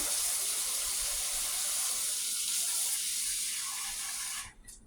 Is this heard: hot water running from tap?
yes